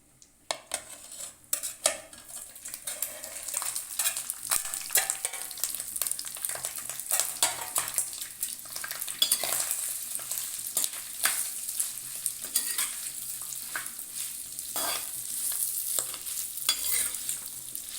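Chopped goat lung meat frying and being stirred in a pan, a steady close sizzle with repeated scraping and clinks of a spoon against the metal throughout, no voices.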